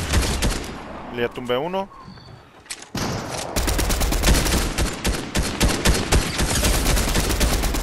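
Rapid Fortnite gunfire crackles in dense bursts and sustained volleys, loud and close, with a brief lull before heavy automatic fire resumes; a player speaks briefly amid the shooting.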